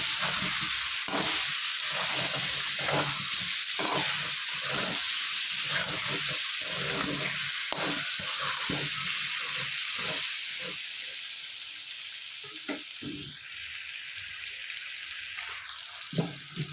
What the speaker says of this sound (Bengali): হালকা লাল করে একটু আলুগুলো ভেজে নেওয়ার পর মশলা দিয়ে কষিয়ে দেবো।